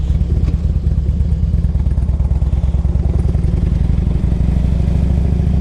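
A 2003 Harley-Davidson FLHTP police motorcycle rumbles steadily as it rides, its V-twin giving a loud, close, continuous low throb with an even pulsing beat and no talk over it.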